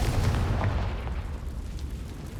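Confringo fire spell blast in Hogwarts Legacy, a loud rumbling explosion at the start that rolls off into a dense, fading roar.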